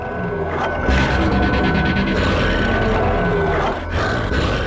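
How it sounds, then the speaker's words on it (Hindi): A ferocious wolf growls in a jungle scene from a crime drama, a harsh, continuous rumbling snarl that stays loud and close for several seconds, with a brief dip near the end. "वो बहुत ही अजीब तरह से गुर्रा रहा था।"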